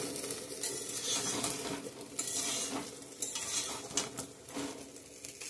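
Cauliflower pakoras frying in a pan of oil, a steady sizzle broken by repeated scrapes and clinks of a spoon stirring against the pan, close and fairly quiet with no talking.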